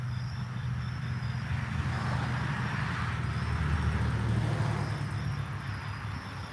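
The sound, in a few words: cars passing by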